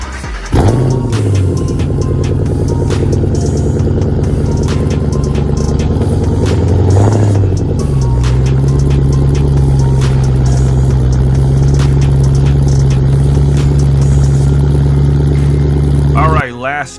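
A 3-valve Ford Mustang runs with a steady, deep engine drone that rises briefly near the start and mid-way, then holds a constant low rumble before cutting off at the end.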